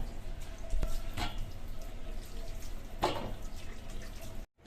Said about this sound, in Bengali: সবজিগুলা ধুইয়া নিতেছি ধুইয়া কাটলে ভালো হয়